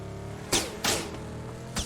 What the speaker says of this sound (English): A couple of shots hitting the vehicle there.